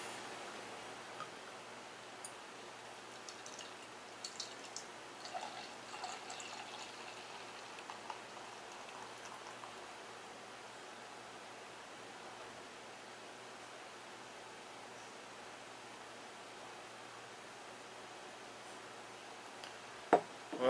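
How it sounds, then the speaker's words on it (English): Kentucky Old Fashioned Barrel Ale is poured from a bottle into a glass as a quiet, hissing stream with faint fizzing and ticking that fades into a soft steady wash, ending with a couple of brief clinks. "Let's go ahead and get a pour on this one and see what it looks like."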